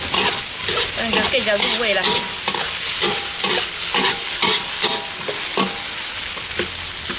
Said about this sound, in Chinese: 但是给它炒一下，把辣椒炒熟